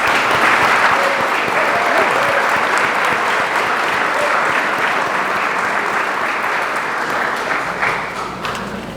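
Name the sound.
audience applause at an honors convocation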